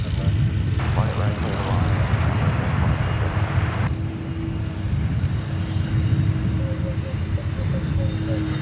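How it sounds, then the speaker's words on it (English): UPS Boeing 767 arriving at Dallas/Fort Worth airport from San Antonio on the prairie: a low, rumbling jet engine drone at moderate distance, steady throughout with a faint tonal whine, and a voice talking briefly over it. "Here comes the UPS 767, arriving from San Antonio, Texas."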